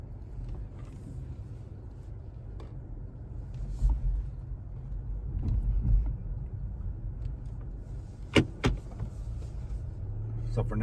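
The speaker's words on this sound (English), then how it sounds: "let's get on the road and let's see how the car performs with the stage 1 from KTuner uploaded to it" A car running a KTuner stage 1 tune drives slowly through a neighborhood, its engine a low steady rumble close by, with a few sharp clicks and knocks from inside the cabin.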